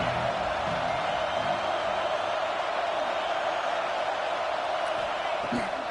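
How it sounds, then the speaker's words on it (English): Stadium crowd in an NCAA football video game roars steadily on a third-down defensive stand, a dense, continuous wash of cheering that holds loud and even throughout without breaks. "Decibels rising as the crowd gets behind this defense on 3rd down."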